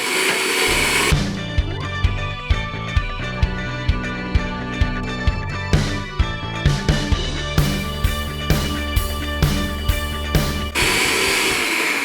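An electric mixer beats lemon and raspberry cupcake batter, whirring loudly and steadily with a regular knocking pulse as the beaters move through the bowl.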